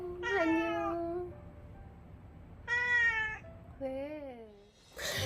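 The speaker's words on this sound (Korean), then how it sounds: "이제는 주인이 떠난 썰렁한 동네 길고양이들만 남아 있습니다." A stray cat in a quiet, deserted neighbourhood gives three distinct meows, close and clear, with brief pauses between them, ending in a short burst of noise.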